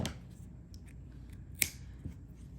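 A single crisp snip of scissors cutting crochet yarn, quiet and close, one short sharp cut with a faint softer click shortly after.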